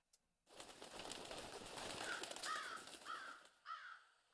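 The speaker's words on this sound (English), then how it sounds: "Bird sounds?" In a Fate/Grand Order game scene, a flock of birds bursts into flight with a rushing flutter of wings, and several crow-like caws ring out over the noise before it fades.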